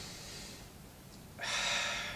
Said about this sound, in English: take a deep breath, fill their belly with air, hold for 2 to 3 seconds, release